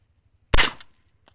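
A single suppressed rifle shot from a Seekins SP10 .308 gas gun with an 18-inch barrel, fitted with a 5-inch Thunder Beast Dominus K can: one sharp, close report that fades quickly, with near silence before and after.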